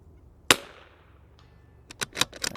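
A single sharp rifle shot at a steel plate cracks loudly and decays quickly, followed by a quieter faint ping and then a cluster of short clicks and rustles of handling nearby.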